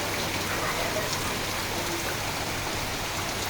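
Steady rain falls in cool weather, a dense even patter of drops on surfaces that fills the whole moment without a break, fairly close and moderately loud, with no voices.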